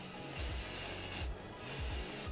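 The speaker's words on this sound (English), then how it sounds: "So you're just gonna take this spray and spray about 8 to 10 inches away from root to tip." Hair spray misted from about 8 to 10 inches away onto hair extensions, root to tip: a couple of close, hissing bursts with brief pauses between them, no talking over it.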